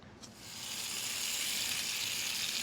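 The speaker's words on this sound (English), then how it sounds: "Pan is hot. We got 1 room temperature stick of butter. Melt that in." A room-temperature stick of butter hits a hot pan and starts sizzling, a steady bright hiss that rises quickly and holds close and clear, with no voices.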